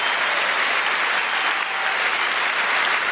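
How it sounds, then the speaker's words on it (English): A crowd claps steadily and loudly, a dense, continuous wash of applause with no break. "Huge round of applause, ladies and gentlemen."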